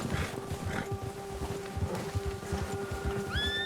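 A horse in the Red Dead Redemption 2 video game snorts and shuffles with soft rhythmic hoof thuds over a steady ambient game backdrop, with a faint rising tone near the end.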